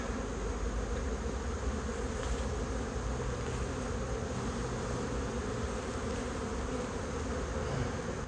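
Swarm of wild bees buzzing continuously while being scooped out of a box where they had begun building honeycomb, a dense close hum with no pauses and no talk.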